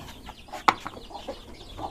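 A single short hen cluck stands out near the middle, with faint soft clucks scattered around it over light background noise.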